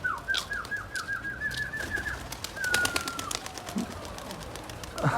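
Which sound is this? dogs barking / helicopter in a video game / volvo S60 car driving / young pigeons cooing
young pigeons cooing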